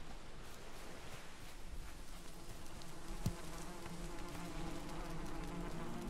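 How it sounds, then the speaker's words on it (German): Bees buzzing in the video game Valheim, a steady insect drone with faint rustling, continuous and fairly quiet throughout with one brief sharp tick midway. "die Bienen sind glücklich"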